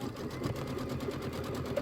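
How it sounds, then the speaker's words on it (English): A machine embroidery sewing machine runs a tack-down stitch on a Kimberbell mini quilt, a steady rapid mechanical chatter at close range with no talking. "All right, it's going to tack it down."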